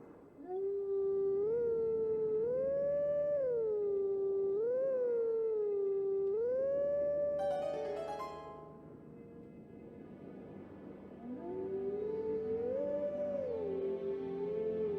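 Repeated wolf howls in The Legend of Zelda: Twilight Princess form a melodic sequence of rising and falling phrases, clear and prominent, pausing briefly amid a softer noisy passage before the howling resumes.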